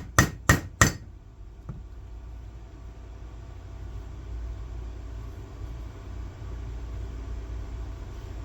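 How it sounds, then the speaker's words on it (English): Three sharp, loud metallic hammer strikes on an anvil in quick succession, driving parts of a white Vibroplex telegraph key into place, followed by a low steady background hum. "put them on an anvil, and then hammer them the rest of the way"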